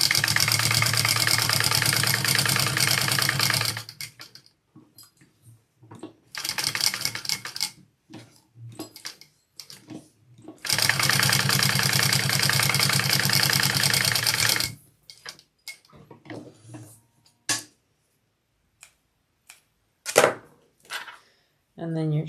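Top stitching on a convertible bag, a sewing machine runs in two loud, sustained bursts broken by quieter gaps of clicks, fabric shuffling and short machine starts.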